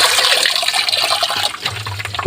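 Water gushes steadily from a faucet set below ground level, a close, continuous rushing flow that keeps running without a break.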